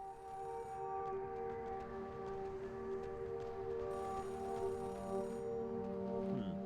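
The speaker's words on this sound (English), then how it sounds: "Payphone ringing in the wild?" Electronic payphone ringing inside the video game Oxenfree, a steady repeating tonal ring heard at a distance over a droning ambient music bed, with no voices.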